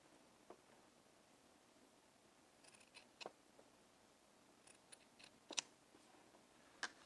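Scissors trim a fabric seam allowance on a sewing project, giving a series of faint, crisp snips and clicks, some spaced apart and a few in quick pairs, over quiet room hiss.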